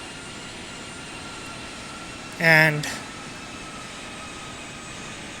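A Philippine Airlines Boeing 747-400 in the flight simulator Infinite Flight holds a steady jet engine drone throughout, with a man's brief spoken word cutting in over it midway.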